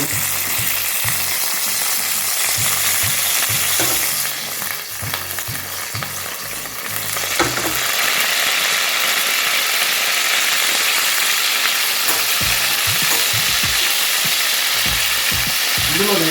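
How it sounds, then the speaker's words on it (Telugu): Green chillies and curry leaves sizzle loudly in hot oil for a fish and drumstick curry, a constant frying hiss with a rhythmic series of ladle stirring knocks throughout, no speech. "ఆయిల్ వేడెక్కింది ఇందులో నేను చూడండి పచ్చిమిర్చి వేసుకున్నాను ఫస్ట్ ఆ తర్వాత కరివేపాకు వేస్తున్నాను"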